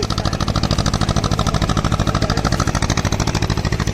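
A boat engine runs close by at Manas with a steady, rapid low chugging that stays loud and even throughout.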